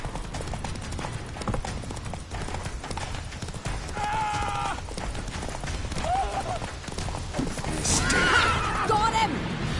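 Geralt's horse Roach gallops and neighs in The Witcher 3, a steady loud clip-clop of hooves running throughout with a few whinnies rising over it, under music and combat sounds.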